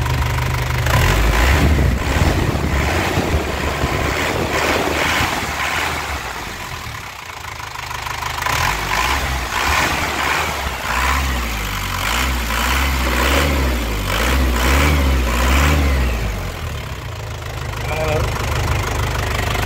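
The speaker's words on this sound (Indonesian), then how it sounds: "Yang ini kita gas-gas ya." A Honda Grand motorcycle engine idles and is revved repeatedly, loud and close with a steady mechanical rattle, while someone talks over it.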